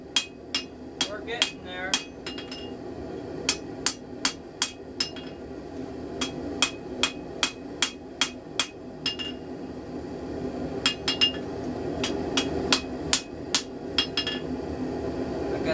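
A hand-forged tomahawk is hammered on an anvil, sharp metallic strikes ringing out in steady rhythmic runs with brief pauses, close and loud, and someone says a few words partway through.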